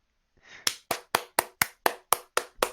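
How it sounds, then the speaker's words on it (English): One person claps by hand in a room, nine crisp, evenly spaced claps close to the microphone after a brief rustle, each sharp and isolated with quick decay. "Why are you clapping?"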